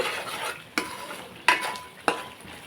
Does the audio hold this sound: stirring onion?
yes